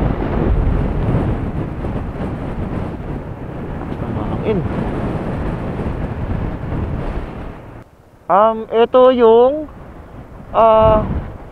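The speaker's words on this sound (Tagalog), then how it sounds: "lakas ng hangin" Strong wind roars across the microphone at a Pacific-facing view deck in Dingalan, a loud continuous rumbling buffet that drops away near the end as a voice speaks over brief lulls.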